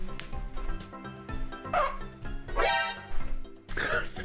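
Several dogs give short yips and barks in quick bursts over a steady backdrop of indoor chatter and noise, the louder barks clustered near the end.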